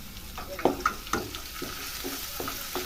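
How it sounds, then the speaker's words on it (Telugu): Crushed ginger and garlic fry in a pan with a steady sizzle, punctuated by a few soft scrapes of stirring, close and fairly quiet, with faint voice in the background. "అల్లం తెల్లుల్లి దంచుకున్నది వేసుకొని కొంచెం అవి పచ్చివాసన పోయే వరకు వేగించాలి."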